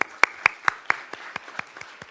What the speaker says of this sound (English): That's the first round of applause.